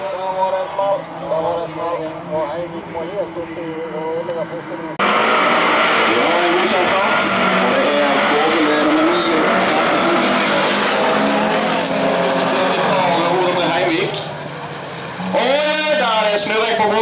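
Rallycross cars racing on a track in Bergen, engines roaring loud and continuous with revving and tyre noise, under excited commentary that runs throughout.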